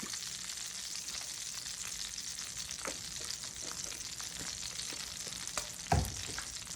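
Vegetables frying steadily in sunflower oil in a pan, a continuous close sizzle with scattered crackles and a louder clatter near the end, no talk over it.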